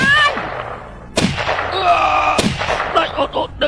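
Gunfire rings out in a fantasy battle scene: two sharp loud shots about a second apart, each trailing into a ringing, echoing decay amid clatter and effects.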